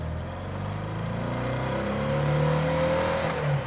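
A 60-horsepower Porsche 356 B engine revs steadily and loudly as the car pulls away. The pitch climbs gradually with acceleration, and no one speaks.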